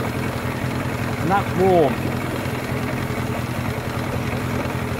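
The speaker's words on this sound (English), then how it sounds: "So it's on fast idle at the moment." A 15hp outboard motor runs on fast idle with a steady, close, rumbling engine drone throughout, and someone speaks briefly over it partway through.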